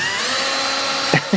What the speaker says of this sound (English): Film me drilling in.